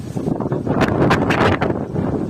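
Strong gusts of typhoon wind buffet the microphone outdoors in Batangas, a steady, loud roar swelling and surging in rough waves with no clear voices.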